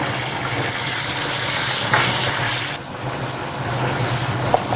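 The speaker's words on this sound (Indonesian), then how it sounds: "Kita masukin. Kita tumis sampai wangi ya." Steady, close sizzle of spice powder frying in a hot pan, with a continuous hiss and faint crackles holding at an even level.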